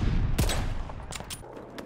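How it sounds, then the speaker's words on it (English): The Death Machine fires in Call of Duty: Vanguard, a rapid, loud burst of gunfire punctuated by sharp individual shots over a dense rumbling backdrop of game noise, with no talking. "I'm getting shot by the death machine"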